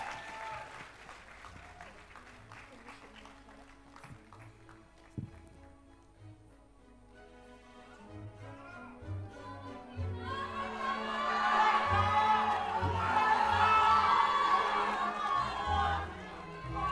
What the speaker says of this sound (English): Come on, you can clap louder than that for your second runners-up.